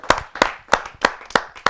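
Rhythmic clapping at a Hindi poetry gathering, six sharp evenly spaced claps in a steady beat, close and clear with no voices.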